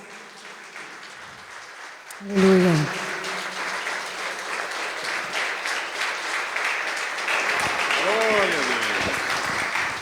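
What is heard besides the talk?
congregation applauding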